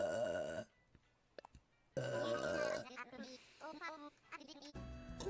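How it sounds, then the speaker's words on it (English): A woman burps, a couple of drawn-out throaty belches up close separated by near silence, followed by voices chatting briefly afterward. "You know I burp when I'm hungry."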